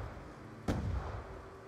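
A single grenade blast goes off in Call of Duty Black Ops 2 Zombies on the Die Rise map, a sudden broadband boom with a short rumbling tail over steady game ambience.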